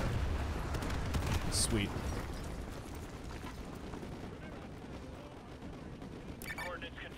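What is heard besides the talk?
artillery strike in video game Modern Warfare 2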